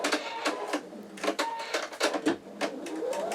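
An embroidery machine stitches over stabilizer held in an 8x8 inch magnetic hoop, giving rapid, close mechanical clatter in uneven bursts with a rising whir near the end.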